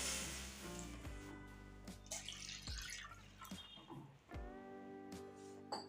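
Water splashes and drips into a cooking pan set up for boiling drumsticks, a close series of uneven pours and plinking drops with brief pauses, fairly quiet and with no talking.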